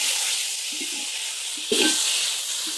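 Onions and tomatoes fry in a pan for shrimp curry, giving a steady close hiss and sizzle with a brief scrape of stirring partway through.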